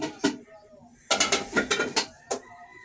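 A metal frying pan (kawali) set onto a kitchen stove, giving one short clank, then a burst of several rattling metallic knocks and a last clunk, close and fairly loud.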